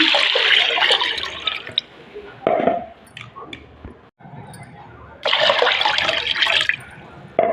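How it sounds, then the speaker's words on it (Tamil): Water splashes and pours in bursts into a container of ration rice set to soak, loud and close, with quieter sloshing in between. "இப்போ இதை நம்ம ஊர் நல்ல தண்ணி வச்சு ஊற வச்சிடலாம்"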